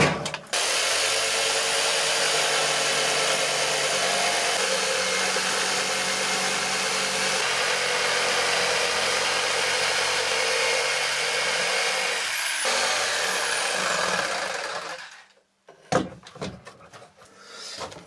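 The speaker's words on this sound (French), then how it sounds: "Donc à la scie sauteuse" A jigsaw cuts through wood to make a small patch piece for a cat-flap opening in a door, running loud and steady for about fifteen seconds before stopping, followed by a few brief knocks and handling sounds.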